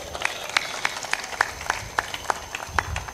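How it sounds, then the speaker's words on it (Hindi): An audience at a spiritual satsang discourse claps in a quick, steady rhythm, each sharp clap evenly spaced and fairly close, with no voices over it. "जोर से ताली बजा दिया करो।"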